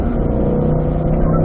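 A race car engine at full throttle on a track, a loud, steady close drone with a strong low growl and no voices.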